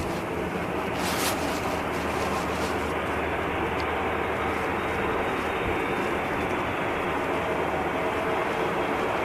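An EasyJet Airbus A320 arriving from Belfast on runway 05R at Manchester Airport, heard as a broad, steady roar of jet noise that stays loud and continuous from start to finish.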